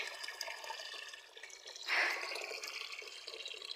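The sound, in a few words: water flowing from a pipe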